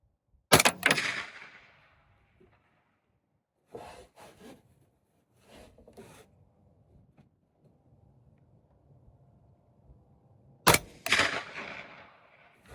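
A 6.5 Creedmoor rifle firing KP-10 ammunition: two loud, sharp shots with ringing decay, one near the start and one near the end, separated by quieter handling knocks and rustles.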